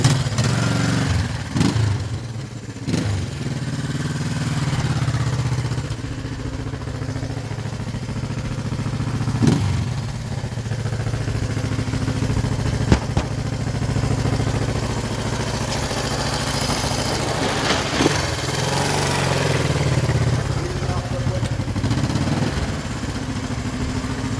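A 1972 Honda CL350 motorcycle engine runs steadily nearby, a low rumbling idle with mechanical clatter and a few brief revs, heard alone without talk.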